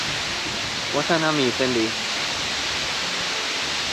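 Maracas Falls in Trinidad, a tall waterfall that reaches the ground mostly as mist, gives a steady broadband hiss of falling water; a person speaks briefly over the constant rush.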